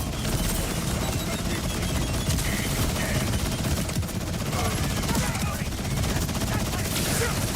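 Rapid automatic gunfire from a weapon in Borderlands 4, a dense, continuous roar of shots fired too fast with heavy recoil, loud and unbroken throughout.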